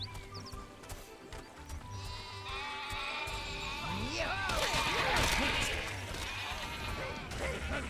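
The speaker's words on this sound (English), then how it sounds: "More sheepies!" Several sheep bleat in the Overlord video game, overlapping wavering cries near and far over game sounds, with occasional thuds and clatter and a voice talking.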